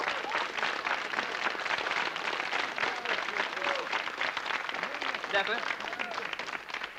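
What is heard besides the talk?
audience applause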